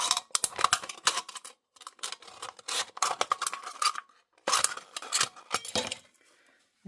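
Snips of scissors cutting through the thin aluminum end of a soda can, a series of sharp metallic crunches in bursts with short pauses between, close and fairly clear.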